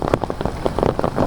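Steady rain pattering on a surface, close and fairly loud, with scattered heavier drops throughout.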